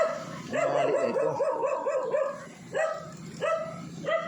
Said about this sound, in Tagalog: Tapos may aso.